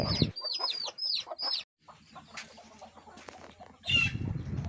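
Bantam hens in a laying coop squawk and cluck up close, with bursts of wing flapping and scuffling between the calls, ending in a loud flurry of activity.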